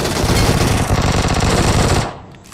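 Loud, sustained automatic gunfire in the battle royale game BGMI, a dense rapid burst for about two seconds that then cuts off abruptly.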